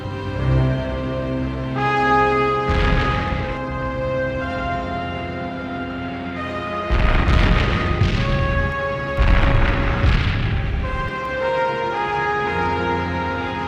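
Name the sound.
artillery barrage explosions sound effect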